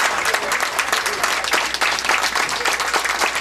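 A bowling crowd in Québec applauds a perfect 300 game with loud, sustained clapping and cheering, steady and dense throughout with no pause.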